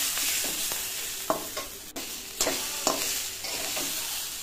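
Cabbage frying in a pan with a steady sizzle while a utensil stirs and scrapes it in several sharp clanks and scuffs, close and moderately loud, no voices.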